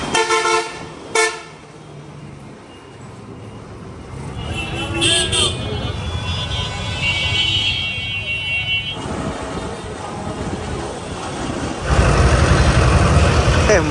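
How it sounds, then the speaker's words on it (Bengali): An evening traffic jam of rickshaws and autos on a busy street: a couple of quick horn toots at the start, then a steady rumble of engines and crowd noise, with people talking throughout. "সন্ধ্যার সময় একটু জ্যাম থাকে, রিক্সা আর অটোর জ্যাম"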